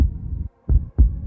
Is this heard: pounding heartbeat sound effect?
yes